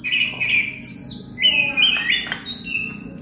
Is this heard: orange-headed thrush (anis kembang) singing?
yes